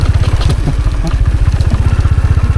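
A cruiser motorcycle engine thumps steadily while riding on an open mountain route near Satara, a loud close rhythmic pulsing beat with some wind noise.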